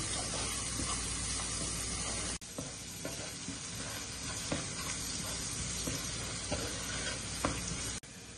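Onions frying in a pan while being stirred, a dense continuous hiss with scattered scrapes and clicks, steady and close, dropping out briefly twice.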